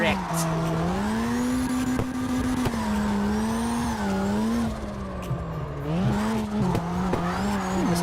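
A Mazda RX-7 drifting in the CarX Drift Racing game, its engine holding a steady high wail that dips and climbs with throttle while tires squeal continuously, with a few brief clicks.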